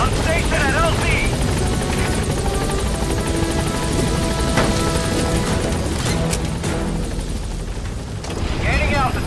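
Pequod, the support helicopter in Metal Gear Solid 5: The Phantom Pain, hovers close with a loud, steady rotor chop and engine whine, joined by scattered crashes and booms, while a radio voice speaks over it.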